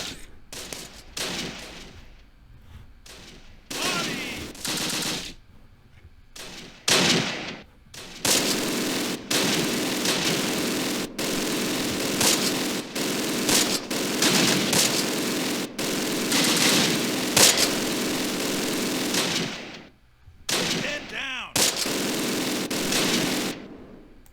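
Combat in the video game Close Combat: bursts of machine-gun fire and rattling volleys crackle in long stretches broken by brief pauses, loud and dense, with heavier thumps mixed in.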